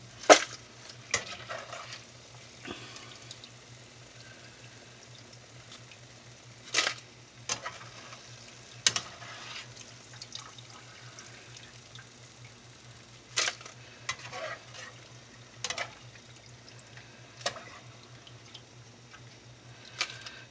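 Tortilla chips fry in hot oil with a steady low sizzle, broken by clinks and stirring clatter from a strainer as the chips are moved around, heard close with no talking.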